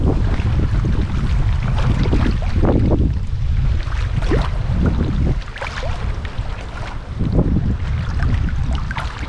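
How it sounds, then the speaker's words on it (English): Strong, gusty wind of about 20 mph with gusts to 30 mph roars and buffets the microphone continuously, with rushing surges and lulls and water lapping faintly underneath. "See a bit of a blow on today, a 20-mile-an-hour wind with up to 30-mile-an-hour gusts."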